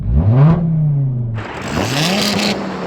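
A tuned Audi TT engine is blipped twice in quick succession, each rev climbing sharply and then falling back, close and loud, with a brief gap between the bursts.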